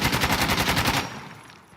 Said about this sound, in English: And now the AK-74 recoil test.